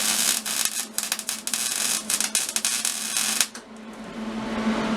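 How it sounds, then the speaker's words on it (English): A torch crackles and sputters steadily while two pieces of scrap metal are welded together for a custom bicycle build, a dense sizzling hiss that cuts off into a quieter hiss near the end. "I am welding 2 pieces of junk together"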